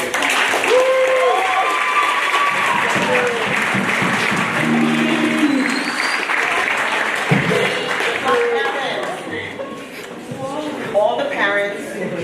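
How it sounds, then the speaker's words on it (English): A crowd at a high school spring arts exhibition and concert claps loudly for video production students, sustained applause mixed with cheers and voices, easing slightly toward the end. "Students, please, let's give them a round of applause."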